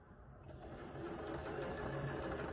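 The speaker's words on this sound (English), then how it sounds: "I'm sewing my last sash border on now" Sewing machine stitching the final sash border onto a quilt, a steady continuous mechanical whir running close and loud throughout without pause.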